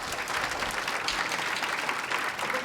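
Audience applause at a health policy summit on resilient health care systems in Japan, a dense, even clapping from a crowd that continues steadily throughout.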